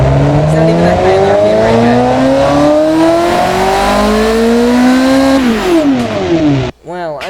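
A drag racing engine with no exhaust in the Automation car-building game revs hard and loud, its pitch climbing steadily and then dropping off sharply near the end, heard up close and alone.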